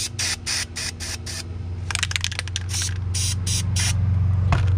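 White spray paint hisses from a can onto a car's interior in a run of short, close bursts, then a longer steady spray, with low background hum beneath.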